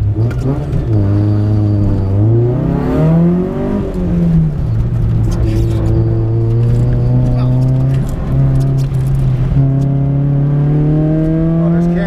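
A Chevy car accelerates hard through an autocross run, its engine droning loud and close from inside the cabin, rising and falling in pitch through several gear pulls and throttle lifts, with voices talking over it.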